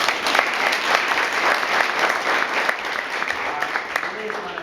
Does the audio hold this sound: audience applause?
yes